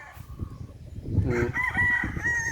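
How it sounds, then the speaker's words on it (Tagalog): Game-farm roosters at RC Game Farm, with one close, loud crow swelling and holding after about a second, over softer clucks and barnyard noise. "makita nilang ang mga manok ng RC Game Farm"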